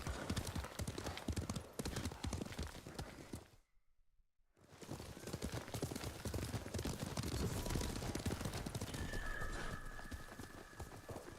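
Horses galloping in Ghost of Tsushima, a dense rapid clatter of hooves from several mounts riding together, loud and continuous apart from a brief silent break near the middle.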